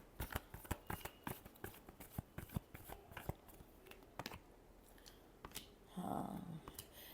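Tarot cards shuffled by hand in a run of crisp, irregular snaps and riffles, close and fairly quiet, with a brief rustling swell near the end and no talking.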